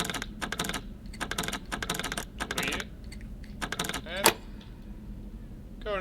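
Lock picking in the survival video game SCUM, with a series of rapid clicking and ticking bursts in short rhythmic clusters, then a sharp metallic click as the lock gives, and speech in between.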